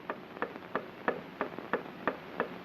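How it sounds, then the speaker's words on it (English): Steady mechanical ticking inside a cartoon car, about eight evenly spaced ticks, close and clear with no talk over it. "What's that ticking?"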